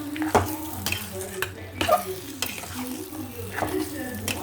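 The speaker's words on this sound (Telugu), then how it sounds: "కారం వేసుకున్నాక ఇలా కొంచెం ఒకసారి కలిపిస్తున్నాను మొత్తం అంతా కర్రీ" Brinjal masala curry being stirred in a pan after chili powder goes in, with repeated scraping strokes of a spoon against the pan over a soft sizzle, close and moderately loud.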